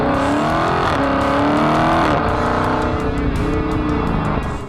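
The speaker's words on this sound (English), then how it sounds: "the exhaust growl," A 2020 Dodge Charger SRT Hellcat Widebody, supercharged with 700 horsepower, roars loud and close, its exhaust growling through rising and falling engine pitch as it accelerates and shifts, with a faint tire squeal under the sustained engine note.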